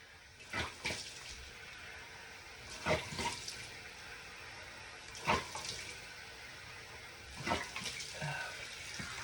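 Something is rinsed under running tap water in bursts: four separate splashing gushes with quieter gaps between, close by and moderately loud over a low steady background.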